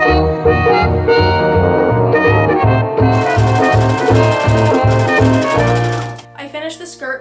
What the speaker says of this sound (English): So I sewed the two panels together